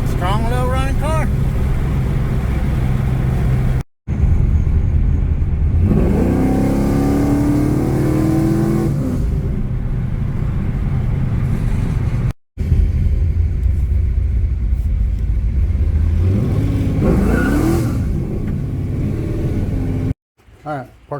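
A 1996 Camaro with a cammed LT1 V8 rumbles along while driving, the engine surging through a couple of accelerations and short cuts, heard from inside the car with talking over it.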